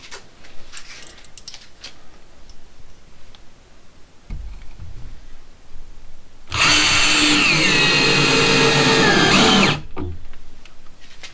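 A Ryobi cordless drill whirs loudly and steadily for about three seconds as it drives in, then stops, with quieter handling noise before and after.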